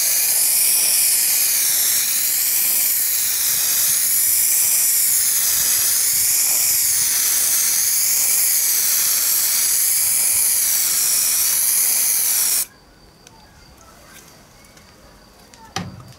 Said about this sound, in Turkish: Ancak bu yanlış olan yüzey olduğundan dolayı yakından sıkıyorum, yavaş hareket ediyorum ve içeriden başlayarak bu işlemi yapıyorum.